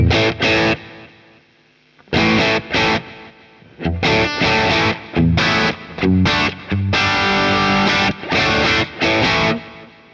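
A distorted electric guitar through a Boss Katana amp with delay effect plays choppy crunch chords and notes, loud and close, with brief gaps between phrases.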